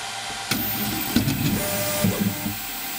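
Leapfrog Bolt 3D printer moving in bed calibration mode, soft stepper motor whirs and brief mechanical movements over a quiet hum, close and fairly faint.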